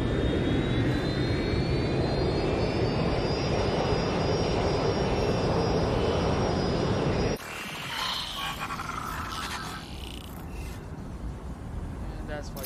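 Airplane engine from the video game Watch Dogs Legion: a loud, continuous jet roar with a rising whine that sustains, then abruptly shifts to a lower, rougher engine drone with scattered clatter.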